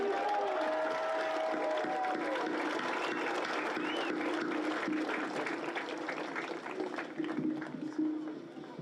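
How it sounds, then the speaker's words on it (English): A high school graduation crowd applauds a student at the ceremony, a full wash of clapping mixed with scattered cheers and voices that thins slightly toward the end. "I would like everyone to raise a hand of applause to Jack Miller."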